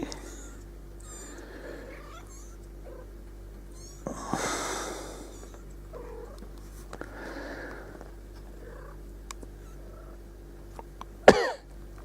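Young kittens meowing in short, faint, intermittent calls against a quiet indoor background, with a sharper knock or clatter near the end.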